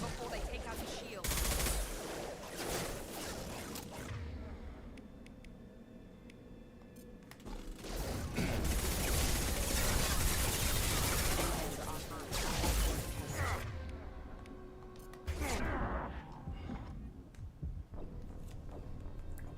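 Rapid bursts of gunfire from the video game Mass Effect 2 on Insanity difficulty crackle in dense, loud volleys separated by quieter stretches, with a player talking now and then.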